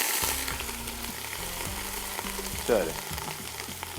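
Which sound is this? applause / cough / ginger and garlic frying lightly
ginger and garlic frying lightly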